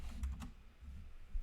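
A few soft keystrokes on a computer keyboard, entering a command in Mathematica, with a short quick burst of clicks followed by quiet room tone.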